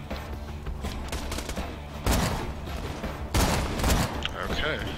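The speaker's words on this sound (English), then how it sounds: "I have explosive rounds." Rapid gunfire with explosive rounds in Borderlands 2, loud sustained bursts with two heavier blasts of impacts, close and dense, mixed with some voice sounds.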